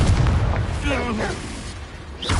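Confringo explosion spell in the Hogwarts Legacy video game: a deep booming blast swells and rumbles under a brief spoken voice, fading before another impact lands at the end.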